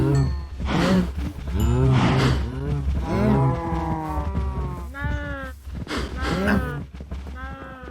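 Several cows moo repeatedly in the blocky survival game Minecraft, loud overlapping bovine calls in a steady string of lowing, close and clear.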